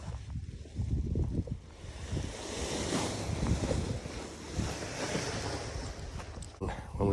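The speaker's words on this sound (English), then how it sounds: "There we got some wind." Strong wind gusting outdoors at a paramotor field, a loud continuous roaring rush with surging buffets against the microphone and no talking.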